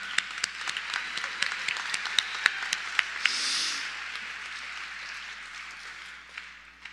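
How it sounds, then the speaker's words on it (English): Audience clapping at a graduation ceremony, a dense patter of many hands with a few sharper individual claps, steady and fairly close before gradually thinning and fading toward the end. "We can clap."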